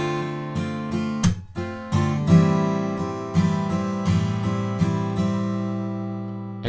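Acoustic guitar chords strummed with the side of the palm striking the strings, giving a percussive muted slap on the beat; a run of ringing strums broken by sharp damped hits, close and clear with no voice.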